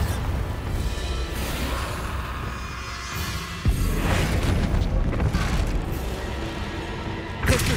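Spell explosions from Confringo and Bombarda in Hogwarts Legacy, a loud continuous rumbling blast with a sharp crash near the middle and another burst at the end, with no talk over it.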